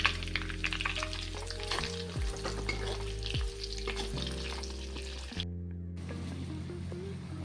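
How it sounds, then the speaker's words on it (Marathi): Onion fries in a pan with garlic and ginger, giving a steady close sizzle and crackle with occasional stirring scrapes and no voices. "कांदा छान असा लालसर असा परतून घ्यायचा."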